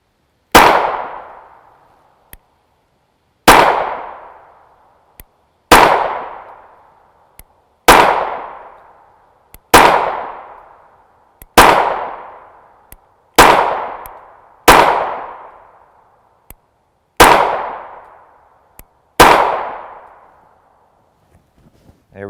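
Ten sharp pistol shots of 9x19mm 124-grain FMJ ammunition ring out one at a time at a steady pace roughly two seconds apart, each a loud crack with a quick decaying ring, and no voices are heard.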